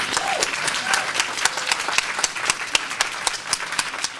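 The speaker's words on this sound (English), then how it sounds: "I need a round of applause" An audience at a multiple sclerosis round table gives a round of applause, a dense, fairly close clatter of many hands clapping steadily with a few sharper individual claps standing out.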